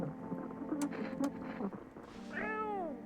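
A cat being petted in the video game No, I'm Not A Human gives a single drawn-out meow, clear and close, after a few soft muffled sounds.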